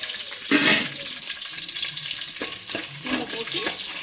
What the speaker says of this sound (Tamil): பூண்டை போட்டு நல்லா வதக்கணும்